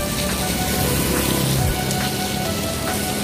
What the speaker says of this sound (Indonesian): Dan karena hujan yang semakin besar